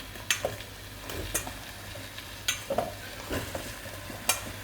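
Potatoes stirred through onion and garlic paste with spices for a Malaysian mamak chicken curry, a spoon scraping the pan in scattered sharp clicks over a low steady sizzle, close and moderately quiet with no talking.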